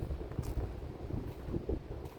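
Strong wind gusts outdoors after rain on a vegetable-picking walk, a steady low rumble buffeting the microphone with no clear voices.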